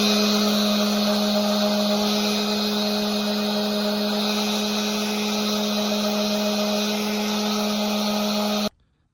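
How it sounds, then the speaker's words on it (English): An orbital sander buffs burrs off a freshly tapped metal coilover camber plate for a Honda Acty kei truck, giving a loud, steady whirring drone that holds evenly for about eight seconds before cutting off abruptly. "I'm just gonna hit this with the orbital sander real quick"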